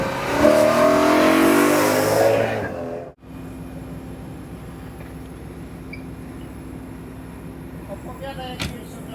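A loud V8 car engine with an Eventuri intake revs hard for a few seconds, then cuts out abruptly into a low idle rumble with faint background noise.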